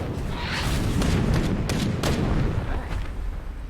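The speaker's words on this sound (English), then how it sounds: "Cannon fire." Repeated booming cannon fire in the video game Battle Chasers, a continuous barrage of heavy thuds and blasts with rolling rumble, loud and dense throughout.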